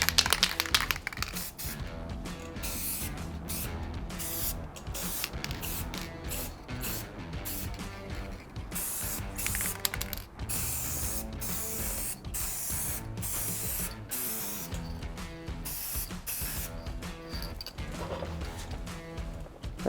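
Clear coat is sprayed onto a Toyota 4Runner's scratch repair in steady, close hissing bursts from a spray gun, repeated with short pauses throughout and no talking.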